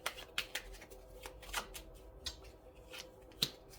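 Oracle cards are shuffled for a card pick: a quiet run of quick, papery riffles and snaps, close by, with no talking.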